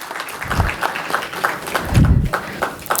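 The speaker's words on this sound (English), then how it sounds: "So I think we should give us a round of applause first of all." A business excellence awards audience gives a short, uneven round of applause, with clapping rising and falling in loose bursts at moderate volume.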